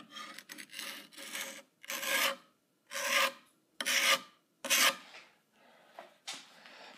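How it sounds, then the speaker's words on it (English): A putty knife scrapes and presses wood filler into an old wooden dresser in a series of about six rasping strokes, each roughly half a second long and separated by short pauses, fairly close and moderately loud. "And then use your putty knife. Make sure it's in there good."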